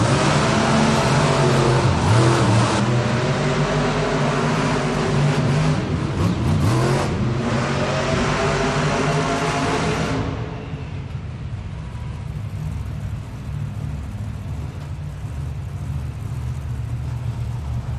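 Monster trucks roar at full throttle in a Monster Jam head-to-head race in an arena in Moline, Illinois, with loud sustained engine noise that fades slightly after the launch, and the trucks then keep rumbling steadily.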